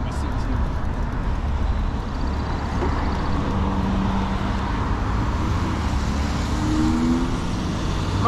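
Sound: cars passing by on a road

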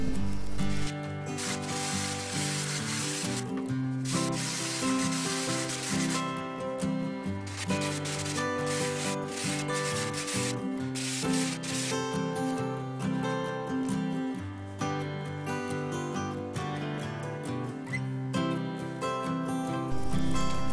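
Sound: sanding foam with coarse sandpaper

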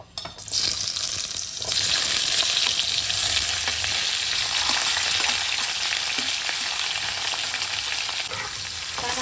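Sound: sweet potato slices frying in hot ghee

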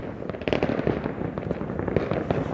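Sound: fireworks exploding

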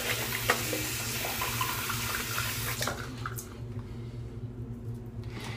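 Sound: rinsing hands under running tap water

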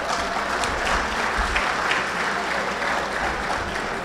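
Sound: audience applause

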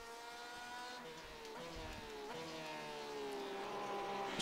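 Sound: Porsche 911 RSR GTE 2018 race car engine in iRacing game

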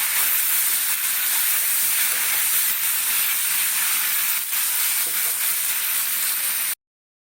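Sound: pointed gourd frying in oil with salt and turmeric

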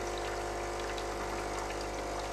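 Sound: espresso machine draining water from group head

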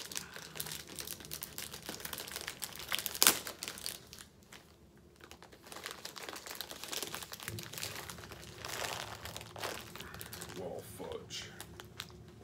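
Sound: crinkling plastic snack package being opened

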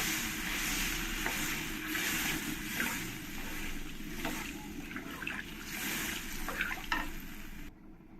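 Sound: water poured into pan with fried taro for curry

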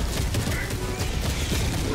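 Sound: turret and barrage gunfire in video game Helldivers 2

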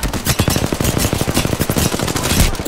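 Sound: gunfire from a video game

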